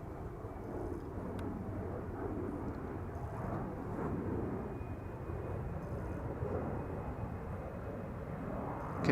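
A Boeing 747 departing Amsterdam's Polderbaan runway, heard as a steady, distant broadband jet roar holding level throughout, with no voices present.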